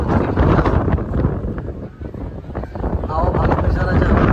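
Strong seaside wind at Kanyakumari buffets the microphone from someone sitting on steps above the sea, a loud continuous roaring rumble with gusts that swell and ease across several seconds.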